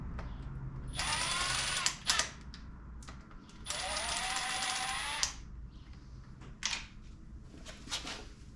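A hand ratchet clicks in quick bursts while removing the camshaft gear bolts on a junkyard 5.3 LS V8 engine, sharp and close, with quiet pauses and a few metallic knocks between strokes.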